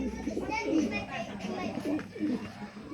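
Cooing from a breeding pair of pigeons in a fancier's loft: soft, repeated low coos at close range, mixed with background voices and children's chatter.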